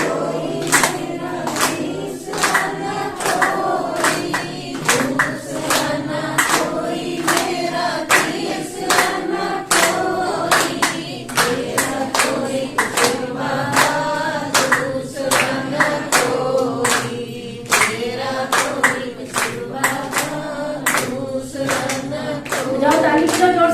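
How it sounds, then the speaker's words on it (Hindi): A group claps loudly and steadily in rhythm along with a devotional Shiv Baba song at a Brahma Kumaris gathering in Shahabad Markanda, the sharp hand claps repeating throughout over the singing. "जाओ ताली बजाओ जोर से।"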